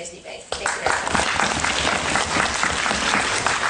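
An audience claps steadily after a formal student debate, with the applause swelling in after a brief quieter start and a voice speaking faintly beneath it.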